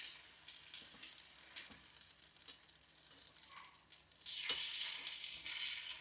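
Punugulu shallow-fry in a little oil in a paniyaram pan, giving a soft continuous sizzle with scattered crackles and spoon taps, and the frying swells louder near the end.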